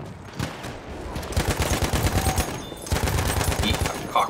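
Madsen LMG light machine gun in Battlefield 1 firing sustained bursts, a rapid, steady rattle of close shots broken by a brief pause before another burst, with battlefield noise around it.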